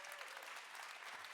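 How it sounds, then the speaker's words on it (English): A conference audience breaks into applause, a brief, fairly quiet patter of many hands clapping together. "You can clap for that."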